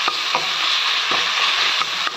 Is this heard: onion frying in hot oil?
yes